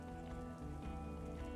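Steady rain in the video game Disco Elysium forms a dense, continuous hiss with a low rumble beneath. The wash is even and unbroken, and no one speaks.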